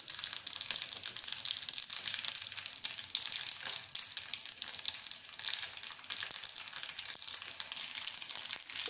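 A kitchen tempering crackles in hot oil with a dense, fairly quiet spitting and sizzling that stays even and unbroken for several seconds.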